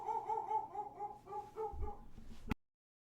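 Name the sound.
dog barking in the background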